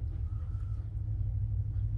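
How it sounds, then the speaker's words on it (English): A second truck's engine rumbles close by at night, a deep, steady low-end drone that runs unbroken for the full two seconds with no voices over it. "That's their other truck"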